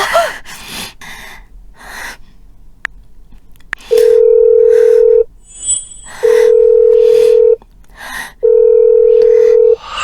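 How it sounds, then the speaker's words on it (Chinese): Three long steady phone ringback tones sound in a row with pauses between, close and loud, preceded by breathy gasps and faint rustling. "我给他打电话"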